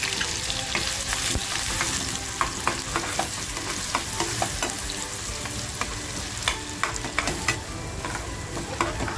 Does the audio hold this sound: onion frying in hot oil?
yes